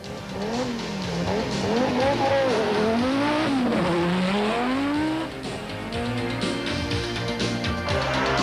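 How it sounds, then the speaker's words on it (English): Audi Quattro Sport rally car racing during a 1988 rally, its engine loud and revving with swooping pitch changes as it accelerates, tires squealing, under a commentator's voice. "Frans Boshoff were very much intent in squeezing every ounce of power out of their Southern Sun Audi Quattro Sport and gaining the laurels."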